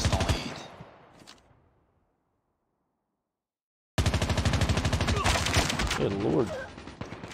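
Dense automatic gunfire in a Call of Duty Mobile multiplayer match bursts in loud after a fading stretch and a few seconds of silence, rattling continuously with a voice exclaiming briefly beforehand.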